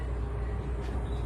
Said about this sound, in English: And those are trucks on the highway